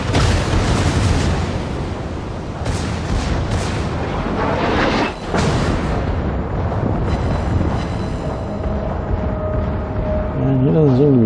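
Bismarck's secondary battery guns fire repeatedly in World of Warships, booming and popping in a steady stream of loud, close blasts, with a player talking over the barrage.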